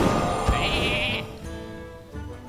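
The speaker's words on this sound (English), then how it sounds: "We make a sheep out of the Patriarch." A sheep bleats once, clear and wavering, from the Polymorph spell in the Hearthstone card game, against a backdrop of game music and effects.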